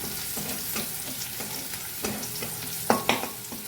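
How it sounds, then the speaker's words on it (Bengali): Panch phoron spices fry in a pan with a steady close sizzle, broken by stirring scrapes and a few sharper crackles and pops near the end. "কিছুটা পরিমাণে পাঁচ ফোড়ন দিয়ে দিই আর তার সাথে ভালো করে ভেজে নিই"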